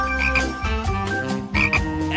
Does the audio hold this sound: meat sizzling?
no